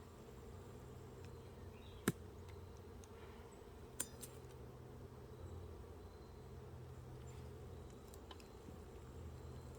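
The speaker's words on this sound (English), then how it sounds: "I'm straddling a whole box of bees." Honeybees in an open hive box being readied for winter, a steady low buzzing hum throughout with a few sharp knocks and clicks of handling.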